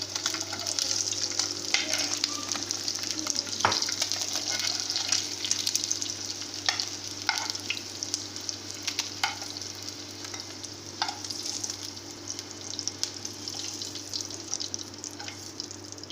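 Boiled eggs fry in hot oil with a steady, moderate sizzle throughout, broken by occasional sharp clicks and taps of a spoon against the pan, with a low hum beneath.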